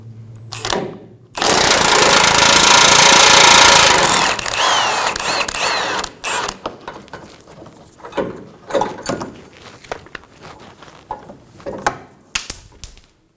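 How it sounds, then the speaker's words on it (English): Tow hook bolts come off a 2007–2017 Ford Expedition with a 15mm socket: a loud burst of impact-wrench whirring, then ratcheting, metallic clinks and clatter of bolts being handled, close by. "remove the two tow hook bolts"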